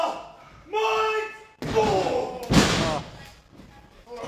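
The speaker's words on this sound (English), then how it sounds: "He slams their heads together." Wrestling match: a heavy slam as a wrestler smashes two opponents' heads together, a loud sharp thud amid arena crowd noise and commentator talk.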